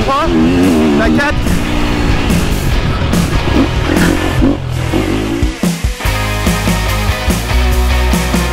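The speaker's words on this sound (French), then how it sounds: "Les vitesses, je vais vous faire un démo avec la moto en charge." A KTM semi-factory race motorcycle engine runs under load on a workshop stand, revving up loudly through the gears with clear shift breaks and rising pitch sweeps, a voice speaking over the constant engine roar.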